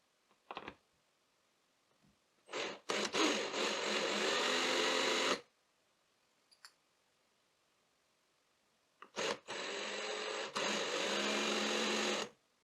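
A power drill spins a bit into the end of a wooden dowel rod in two sustained whirring bursts of about three seconds each, close and loud, with short taps and pauses between.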